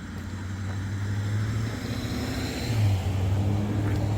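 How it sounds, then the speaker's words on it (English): Cars passing on the Blue Ridge Parkway, a low engine rumble that swells and holds as vehicles drive by nearby, with a second car rising in volume toward the end. "Cars are coming in"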